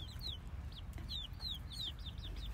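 Young chickens hatched from an incubator peep and chirp busily in a small backyard flock, rapid high calls overlapping nearby above a steady low background hum.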